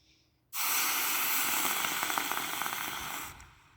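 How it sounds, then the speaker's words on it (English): Hot melted bronze poured into water gives a loud, steady hiss and sizzle that starts abruptly, holds for about three seconds with faint crackles, then dies away. "I got the perfect sizzle in water"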